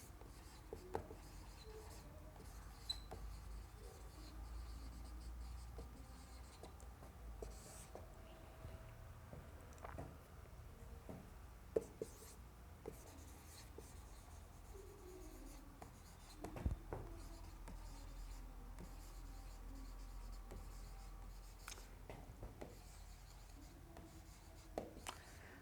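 A pen writes notes by hand during a Hindi chemistry lesson on phenol, faint scratchy strokes with occasional taps, close but quiet, steady over a low background hum for about twenty-five seconds.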